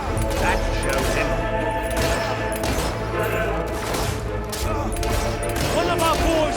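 Gunfire in the video game Fable 3 battle, continuous loud volleys and crackling shots under shouting voices and game music throughout.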